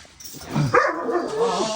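A dog gives a short whimpering, yelping bark that rises and wavers, close by and fairly loud, over a quiet background.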